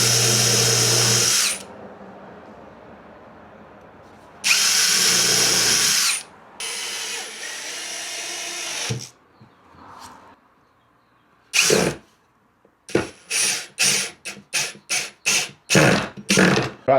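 Power drill driving screws into 2x4 and 1x6 wood for furniture: loud whirring bursts of a few seconds each, pauses between, then a run of short rapid trigger pulses near the end.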